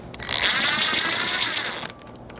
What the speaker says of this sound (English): you're still going to use that 7mm socket